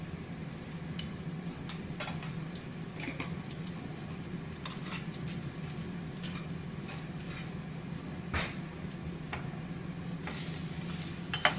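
Chillies, curry leaves and spices fry in a pan with a steady soft sizzle, with occasional sharp clinks of a spoon stirring against the metal.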